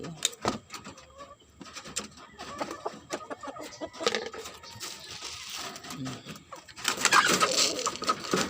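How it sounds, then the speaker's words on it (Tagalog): Chickens clucking and cooing nearby in scattered bursts, with some rustling and a brief voice in the background. "ayan naman ang ating mga manok"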